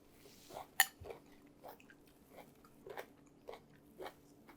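Someone bites into a crisp radish, one sharp crunch followed by a steady run of soft, close chewing crunches, quiet and with no talking.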